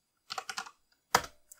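Keystrokes on a computer keyboard while entering commands on a Raspberry Pi: a quick run of five or six close, crisp taps, a pause, then one louder key strike and a faint final tap.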